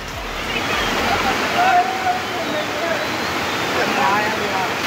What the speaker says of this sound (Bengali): ওদিকটায় মেন ঝর্ণাটা ওখানটায় রয়েছে।